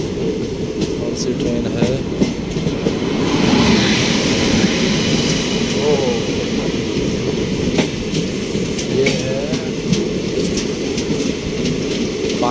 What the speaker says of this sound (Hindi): एक ट्रेन आ रही है, उसमें भी WAP-5 लोकोमोटिव लगा हुआ है।